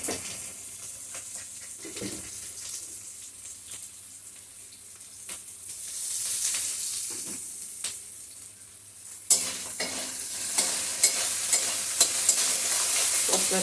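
Tomatoes with salt cooking in a pan, a constant hissing sizzle that swells louder partway through, with intermittent scraping stirs and light clinks, no talk.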